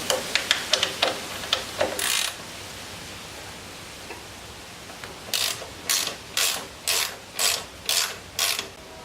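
Ratchet working 8mm hex bolts loose on a Honda Magna motorcycle tail light: a fast run of clicks, then after a pause a slower steady series of about eight ratcheting strokes, close and clear with no talking.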